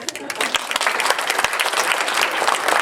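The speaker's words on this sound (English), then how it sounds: "You can all clap if you want." A lecture-hall audience at a public talk on fairness breaks into steady, dense applause, many hands clapping close together at an even loudness for the whole stretch, with some crowd murmur underneath.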